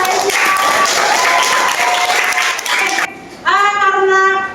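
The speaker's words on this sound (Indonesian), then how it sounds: "Oke, tepuk tangan untuk Aisyah." A class of students applauds a classmate, a brief burst of clapping mixed with voices that cuts off abruptly and gives way to tonal chime-like sounds.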